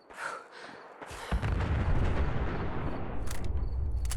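Fusion core explosion in Fallout 4, a sudden heavy boom that swells into a sustained rumbling roar, loud and close with no talk over it.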